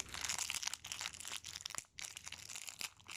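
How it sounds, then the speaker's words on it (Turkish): Chocolate bar wrapper being opened, close, continuous crinkling and rustling of plastic with a short pause midway before more crumpling. "Çikolatanı da açalım mı?"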